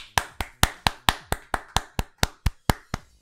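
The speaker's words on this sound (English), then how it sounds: "Can I get a round of applause?" About a dozen crisp, evenly spaced claps ring out close and alone at roughly four per second, like a single pair of hands keeping a steady beat.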